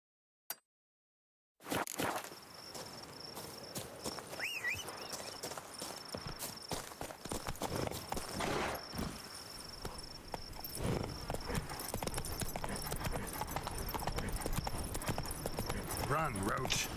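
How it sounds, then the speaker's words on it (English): Horse hooves clip-clop steadily in The Witcher 3 as the mount runs on, a continuous rhythmic clatter that is loud and close and lasts from just after the opening silence to the end, with a brief whinny among the beats. "Run, Roach."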